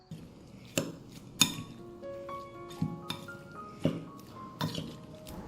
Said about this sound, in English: Now let's mix the prawns with the marinade ingredients.